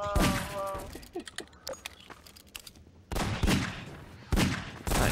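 Gunfire in the video game Half-Life 2 in the Ravenholm level: sharp, loud shots in separate bursts, an opening blast followed by scattered smaller reports and clatter, then two more heavy shots near the end.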